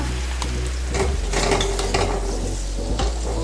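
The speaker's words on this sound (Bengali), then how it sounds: "এবার আমি এর মধ্যে দিয়ে দিচ্ছি গরম মশলা" Garam masala is stirred into a mutton fat curry sizzling in a pan, a close steady sizzle broken by repeated scraping stirs and light clinks of the utensil against the pot.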